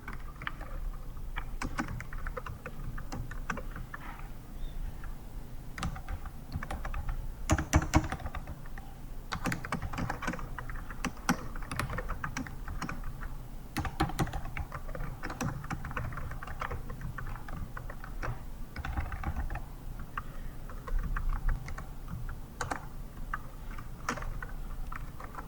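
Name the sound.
typing on a computer keyboard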